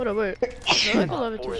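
A single sudden sneeze bursts out amid people chatting casually nearby, loud and brief, with talk continuing around it.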